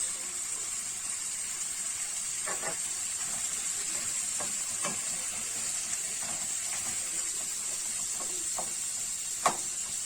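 Onions fry in a pan for a chicken liver sauté, giving a quiet, even sizzle with scattered soft crackles and pops throughout.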